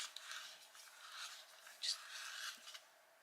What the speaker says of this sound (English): I'm going to try my Tagal sharpener with these because they're quite soft